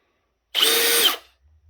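A Milwaukee M18 Fuel 3697-22 hammer drill with a 1/2-inch chuck spins briefly in regular drill mode, giving a loud, close, high-pitched whine for about half a second before winding down.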